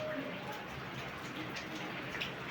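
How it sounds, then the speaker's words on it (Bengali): Steady rain falls outdoors, an even, continuous hiss of drops with no breaks and nothing standing out above it. "বৃষ্টি চলে এলো।"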